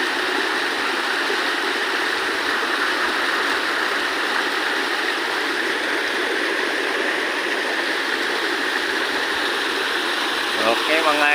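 Aurora waterfall stream at Trangkalan, Patoo, Odiongan, Romblon, flowing steadily, a constant broadband rush of water from start to end without pause, with a faint voice near the end.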